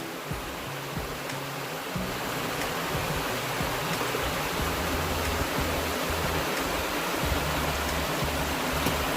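Creek water flows beside a narrow hiking trail, giving a steady, broad rushing and babbling wash that stays at an even level throughout with no voices.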